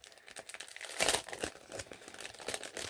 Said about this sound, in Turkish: Yine şöyle bir poşetin içerisinde geliyor böyle bantlanmış.